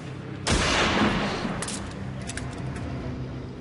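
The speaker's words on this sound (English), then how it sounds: "why Alan has just shot a tape measure" A single loud gunshot blasts at close range toward a tape measure at a shed-building site, its noisy crack and boom decaying over a couple of seconds into steady outdoor rumble with a few faint clicks after.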